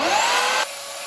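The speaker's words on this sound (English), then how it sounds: "I'm going to just rotate it over the sandpaper surface, gradually making a steeper angle to make that nice round edge" Steady abrasive rasping of a wooden shime bachi drumstick end being rotated against sandpaper to round its edge, loud and continuous, then dropping abruptly to a quieter hiss partway through.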